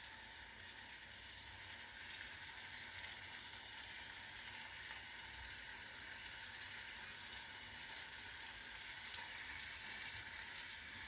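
Corned beef and rice, seasoned with black pepper, frying in a pan in a Jamaican-style home kitchen, with a steady, soft hiss and crackle that stays even throughout and a faint clink near the end.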